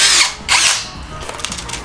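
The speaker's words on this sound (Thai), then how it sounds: "ผมก็จะยิงสกรูติดไปแบบนี้เลยนะ" A power drill drives screws into a window hinge in a home garage build, two loud whirring bursts close by followed by a lower grinding run as the screw seats.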